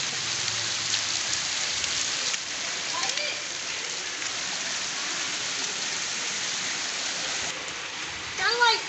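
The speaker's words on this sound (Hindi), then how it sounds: "तो बहुत तेज़ बारिश आ रही है।" Heavy rain pours steadily as a dense, even hiss during a cricket game outdoors, with brief faint voices and shouts breaking through near the end.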